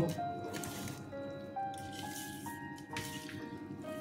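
Pomelo salad with green chilli is mixed by hand, giving soft, close, wet squishing and dripping sounds throughout, with faint tonal background noise.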